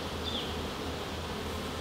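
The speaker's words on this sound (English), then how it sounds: "observe the behavior of the bees on the comb" Honey bees buzzing on the comb of hive frames lifted out during a colony inspection, a faint, steady, continuous droning hum with no talk over it.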